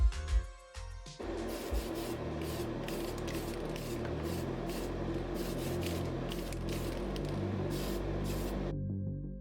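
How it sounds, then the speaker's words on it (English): Glossy clear coat hisses from a spray can onto a restored Corgi die-cast Ferrari Formula 1 model body in one continuous close burst that stops abruptly near the end. "Now that the body has been given a lovely glossy clear coat, it's time to apply the decals."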